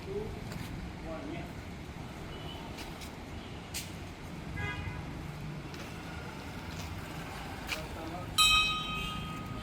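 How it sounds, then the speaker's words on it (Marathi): A bell rings at Rameshwaram temple in Alibaug, one short clanging strike near the end, heard faintly under nearby talking and passing road traffic. "घंटा वाजवताना घ्या."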